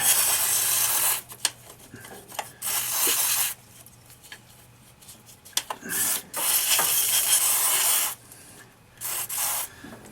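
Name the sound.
spraying carb cleaner on a Jeep CJ Carter carburettor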